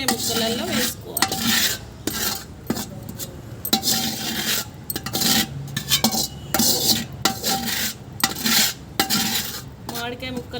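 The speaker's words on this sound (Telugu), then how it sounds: "మామిడికాయ ముక్కలలో వేసుకొని బాగా కలిపెట్టుకోవాలి" Raw mango pieces for Andhra avakaya pickle are mixed with cooled oil in a metal vessel, producing repeated close scraping and stirring strokes broken by clinks of the utensil against the pot.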